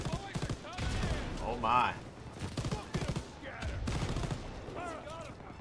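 MG 42 machine gun fire in the video game Call of Duty WWII, with bursts of gunfire and battle noise running under excited voices talking throughout.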